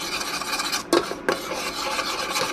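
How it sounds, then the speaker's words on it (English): Cacao powder being stirred into sugar in a bowl for honeycomb, a close, steady gritty scraping with two sharper rasping strokes near the middle. "Give it a stir"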